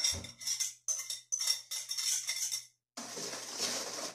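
A utensil scrapes and clinks against a bowl in short bursts while pastry dough with butter is stirred, close and moderately loud, with a brief pause before a longer stretch of stirring.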